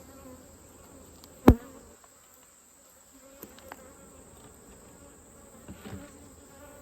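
Honeybees in a hive box give off a soft, steady buzz under quiet ambience, broken by a sharp knock and a few faint taps.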